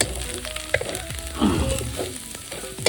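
Masala paste fries in a kadhai over browned onions as the base for mutton curry, a close crackling sizzle with spatula scrapes and a few sharper clacks, steady throughout the short stretch.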